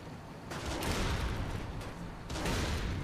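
Sustained gunfire in the video game Saints Row the Third, a dense, loud rattle of rapid shots that intensifies at two points.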